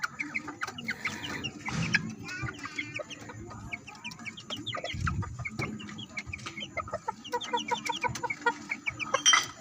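Pet chickens, including a young chick bought at a fiesta, cluck and chirp busily during feeding time, with close, continuous overlapping calls and occasional rustling and scratching around them.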